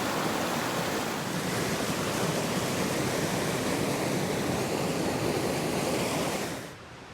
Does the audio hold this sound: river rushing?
yes